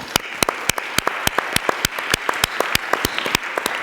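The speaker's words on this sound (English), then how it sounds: "So one more applause, please." Audience applause at a speaking event, but the claps are sparse and evenly spaced, sharp individual hits in a steady rhythm, loud and close, with no talk over them.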